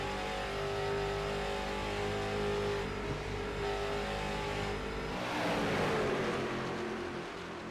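Sim race cars roar together on a restart at Charlotte Motor Speedway, a dense, steady engine drone that swells as the pack accelerates, loud and continuous with no voices.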